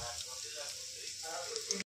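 Chopped onions sizzle in mustard oil in a pan, a steady, moderately loud frying hiss with a voice faintly audible alongside.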